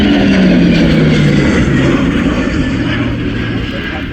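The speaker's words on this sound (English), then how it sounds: "This is the Blackhawk return flight." A Black Hawk helicopter flies past on its return flight at the RIAT airshow, a loud, close engine roar with a tone that slides down as it passes and then fades slowly.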